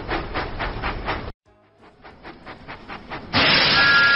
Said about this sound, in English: Thomas puffed proudly into Tidmouth Sheds.